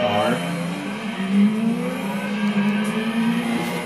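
Engine drone from a racing-modified Subaru Impreza WRX STI Version 3 in a Gran Turismo 2 rally race on a Tahiti dirt route, a steady buzzing rev holding close and loud with small pitch swells throughout.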